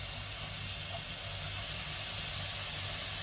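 Onions hit a hot pan for a vegetable cutlet, producing an even, unbroken hiss of frying that holds steady throughout, with no talking.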